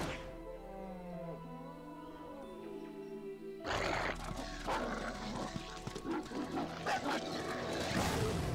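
Wolves in Tales of Vesperia barking and whining, first sparse high yelps over a quiet tonal backdrop, then a denser burst of overlapping barks and scuffling from the middle onward, fairly close and moderately loud.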